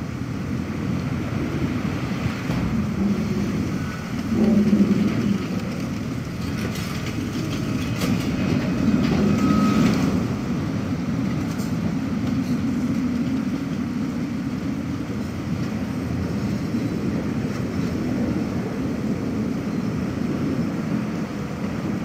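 A tram car from the video game Syberia The World Before runs steadily with a continuous rumbling roll and faint rattles, sustained and fairly loud throughout with no talk.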